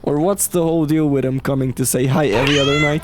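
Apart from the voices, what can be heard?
cat meowing in a video game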